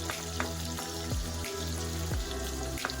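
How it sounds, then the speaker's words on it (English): Onions and ginger garlic paste sizzle in a little oil in a pressure cooker on high heat, a steady close frying crackle with scattered pops and a low background hum, no talking. "add a little bit of oil. Next, add half the onions. Add half the ginger garlic paste"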